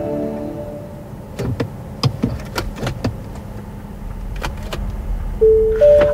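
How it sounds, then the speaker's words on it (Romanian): Inside a 2023 Nissan Ariya electric car, a few soft clicks and knocks come before a clear two-tone seatbelt warning chime sounds near the end. "asta este sunetul de care vă ziceam că se aude când mergi fără centură"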